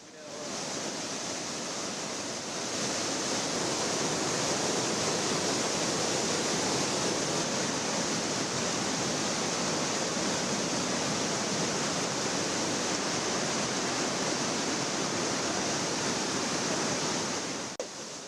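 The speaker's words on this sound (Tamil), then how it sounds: "இன்று காலையிலும் குற்றால அருவியில் நீர்வரத்து அதிகரித்து காணப்படுவதால் குளிப்பதற்கு விதிக்கப்பட்ட தடை நீட்டிக்கப்பட்டுள்ளது" Courtallam waterfall roars with heavy water flow in a steady, loud, unbroken rush of water that fills the whole stretch without letup.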